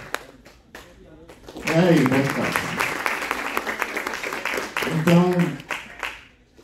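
An audience breaks into applause as a guest is introduced at a festival. The clapping swells, holds for a few seconds and then fades, while a host's voice carries over it and around it.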